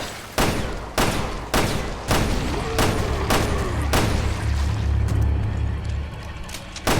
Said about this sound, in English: Why do you think I'm shooting? Better to shoot him now than later.